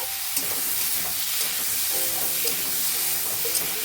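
Food being stirred in a pan after turmeric powder and salt go in, a steady close sizzle and hiss with soft scraping strokes throughout, no talking.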